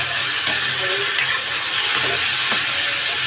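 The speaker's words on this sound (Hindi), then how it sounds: "अदरक लहसुन भी भून गया। बस अब इसमें डाल देता हूँ मैं सब्जी।" Vegetables sizzle in hot oil with ginger and garlic, a steady broadband frying hiss with a few brief stirring scrapes, close and continuous with no talking.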